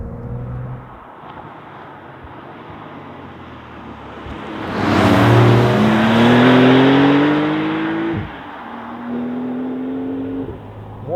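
Cabin view of a 2023 Porsche 992 911 GTS with Lightweight Package and manual gearbox while driving, its engine droning steadily, then swelling into a louder rising pull as revs climb mid-drive before easing back.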